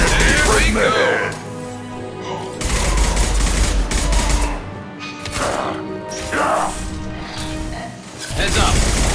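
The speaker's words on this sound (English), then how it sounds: "Major firefight here." Gunfire from a major firefight in Mass Effect 2, bursts of shots and impacts coming in repeated loud waves against a dense game soundscape, with voices talking in between.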